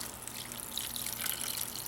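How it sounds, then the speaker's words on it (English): Water being poured onto charred, crusted BBQ chicken on a grill for slow cooking, a steady trickling and sizzling hiss lasting throughout at moderate level. "adding some water"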